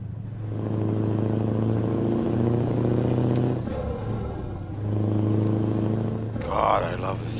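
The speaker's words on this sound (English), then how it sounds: "God, I love this engine sound." A Scania hook loader truck's engine and exhaust drone in a deep, steady rumble, easing and building again as it drives through Norway, with a brief clatter near the end.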